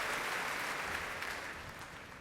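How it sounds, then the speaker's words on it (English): An audience applauds after the National Youth Orchestra's performance of Mahler's First Symphony at the Proms, a steady dense wash of clapping filling a large hall, heard from a distance without any voices. "Gets all 160 musicians to their feet once again for a very well-deserved applause"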